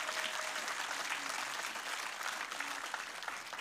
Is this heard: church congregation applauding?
yes